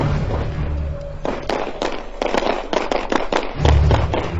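A handgun fires in a lightning-fast string, about ten sharp, loud cracks in quick succession, close by and ringing out over a low background rumble.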